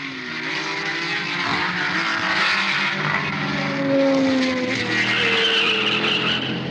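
A Porsche race car driven by Peter Revson at the 1970 Sebring 12-hour race skids with loud tire squeal over a roaring engine, the squeal rising in pitch as the car slides and then recovers, with other cars' engines droning around it.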